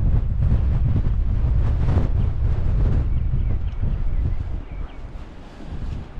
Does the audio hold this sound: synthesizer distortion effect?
no